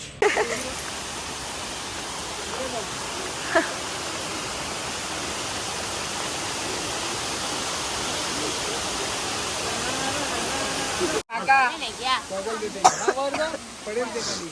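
A steady, roaring rush of water from the large, high Amboli waterfall at Amboli Ghat fills the scene, broad and constant, with voices and a throat clear breaking in near the end.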